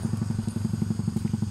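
A single motorcycle passes on a rural road lined with fruit trees, its engine putting out a rapid, even, close pulsing throb with no talking.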